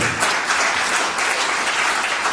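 A church congregation applauds in a thick, continuous wash of clapping that stays loud and even throughout the short stretch, with no speech on top.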